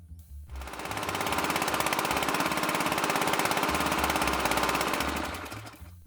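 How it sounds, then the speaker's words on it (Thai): Small petrol-engine water pump, a cheap unit under 2,500 baht used in a garden orchard, runs with a loud, rapid chugging putter that fades up, holds steady, then sputters and dies as the fuel runs out. "ผมรอให้ปั๊มดับน้ำมันหมดเลย เพื่อจะจับเวลาดู"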